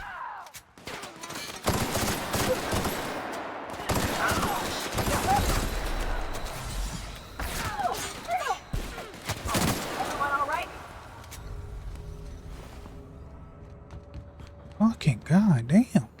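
Video game gunfire in loud bursts and rapid volleys, sharp cracks clustered through the first ten seconds and a few more near the end, with a voice talking over parts of it.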